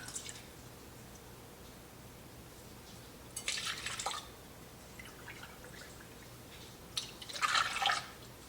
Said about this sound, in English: Then we're gonna add 2 cups of half and half.